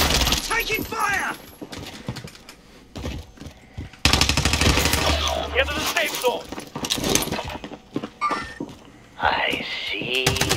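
MG 82 machine gun firing in the video game Call of Duty Warzone, bursts of gunfire mixed with game effects and voices talking over the action.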